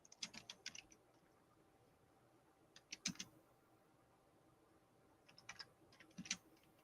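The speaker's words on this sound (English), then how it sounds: "He's typing." Keys on a computer keyboard clack in short, quiet bursts of rapid typing, separated by pauses, heard close but faint in a quiet room.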